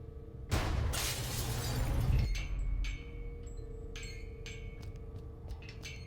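In the video game Gibbous, a pane of glass above a lab door shatters with a sudden loud crash, shards tinkling for about two seconds before several small clinks and settling debris trail off.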